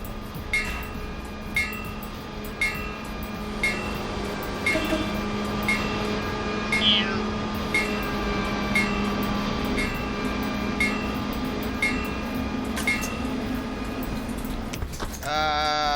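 A passing train heard through an open bus door in the OMSI 2 bus simulator, a steady rumble with rhythmic clicking of wheels over rail joints, ending in a brief burst of mechanical noise.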